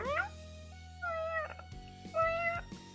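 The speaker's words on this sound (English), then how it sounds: "Sounds like a relatively sicky cat" A cat that sounds slightly sick meows several times in close succession, each call a thin, wavering cry, near and fairly clear over a low steady hum in the background.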